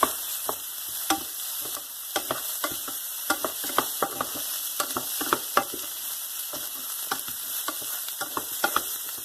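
Something is stirred with butter in a pan over a medium flame, producing a constant soft sizzle broken by regular sharp spatula taps and scrapes against the pan; no voices.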